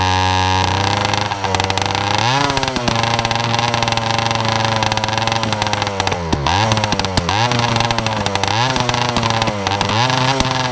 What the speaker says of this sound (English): it's running without the spark plug, and it's so hot, it's just igniting the fuel, and it's just dumping it into the exhaust